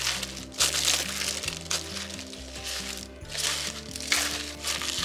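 A spoon scrapes and clatters through cabbage seasoned with brown sugar inside a pot, giving irregular crinkly scraping strokes that sit close and fairly loud, with a steady low hum underneath.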